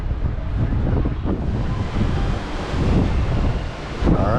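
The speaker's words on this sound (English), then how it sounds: "Don't know how much my voice is going to be in here because it's pretty breezy" Strong, gusty wind buffets the microphone on a cruise ship leaving the port of Cozumel, with a steady roar and surf-like swells, loud and continuous, no voices.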